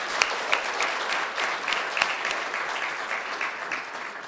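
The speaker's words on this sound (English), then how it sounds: "join me for a round of applause for the great presentation that we had today" An audience at a regional aviation symposium claps after a presentation, a dense, steady round of applause with a few sharper individual claps, holding at an even level throughout.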